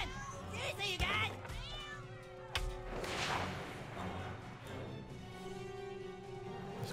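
Cat meowing in South Park: The Stick of Truth, repeated meows amid game music, hits and character voices, fairly loud and close.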